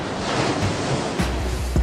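Ocean waves roll and wash steadily against the shore, a broad close surf roar with brief surges and some wind buffeting across the microphone, no voices.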